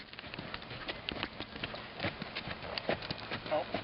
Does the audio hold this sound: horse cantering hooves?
yes